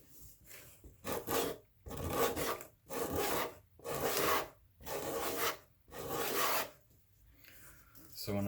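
A leather journal cover edge is smoothed and rounded off with a rasping tool in about seven steady, close strokes, each a dry scraping rasp separated by short pauses.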